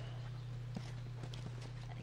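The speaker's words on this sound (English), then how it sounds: "You guys have horses." Horse hooves clip-clop at a slow, even walking pace in The Last of Us Part II, faint and a little distant over a steady low hum.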